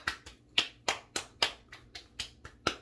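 Straight Gondolier aftershave slapped onto the face with the hands, about ten sharp, close pats in a steady, quick rhythm like light clapping.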